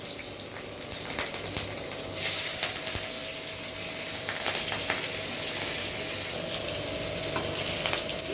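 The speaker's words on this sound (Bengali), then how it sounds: "কাঁচা লঙ্কাটা আমার ভাজা হয়ে গিয়েছে।" Green chilies fry in a pan of hot oil with a pinch of black cumin, a steady close sizzle and crackle with occasional pops, with no talking.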